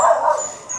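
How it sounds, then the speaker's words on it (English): Dogs barking outdoors, one loud close bark that rings out and fades within a second, with no talk over it. "I'm sorry for the dogs that are barking"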